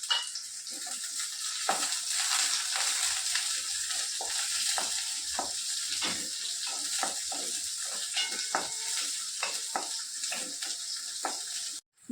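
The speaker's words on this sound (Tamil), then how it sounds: "வெங்காயம் இந்த அளவு வதங்கிடுச்சு." Small shallots sautéing with fennel seeds in a pan for goat liver fry, a steady sizzle with frequent sharp spatula scrapes and taps, close and alone, ending in a brief clatter.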